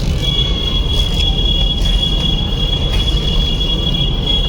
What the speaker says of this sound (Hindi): ये झुक झुक गाड़ी आ रही है सामने, ट्रेन।